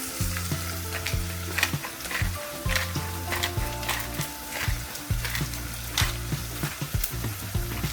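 Potatoes frying in hot oil, a lively crackling sizzle throughout at moderate volume, with repeated scraping and stirring from a utensil in the pan, close by and without talk.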